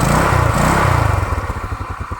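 A Rusi scooter motorcycle engine runs close by after a fix for heavy fuel consumption, revving briefly then settling into a loud, even, rapid putter with a clattering edge, no talking.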